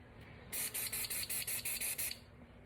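Spray paint from an aerosol can being applied to a tumbler in about nine quick evenly spaced bursts, each a loud sharp hiss, close up and alone.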